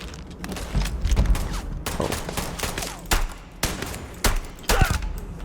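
Bursts of gunfire from the video game Starfield, loud and close, with rapid repeated shots and heavy thumps coming in clusters over a steady background rumble, and no talking.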